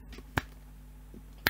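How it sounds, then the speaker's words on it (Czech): Two crisp finger snaps ring out about a second apart, close and sharp against a quiet background hum. "Profesionální luskač prsty."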